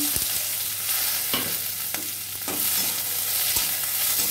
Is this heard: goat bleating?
no